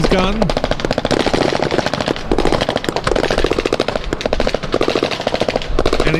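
Czech Army troops fire bursts of rapid gunfire during a NATO Days combat demonstration, with loud, dense, rattling volleys that continue almost without pause and faint voices underneath.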